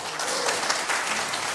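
Crowd at a minstrels' night in Gölbelen village clapping, a brief burst of dense, sustained applause, fairly loud and even throughout.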